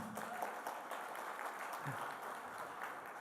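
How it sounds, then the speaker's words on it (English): Applause at a graduation ceremony for around 150 graduates in Dubai, sustained even clapping from a large crowd heard at a distance and fairly faint, with no speech over it. "Give up a clap."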